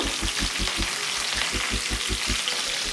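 Fresh curry leaves hit hot oil for a restaurant-style chicken pepper fry, giving a close, steady crackling sizzle over a rapid pulsing bubbling rhythm throughout.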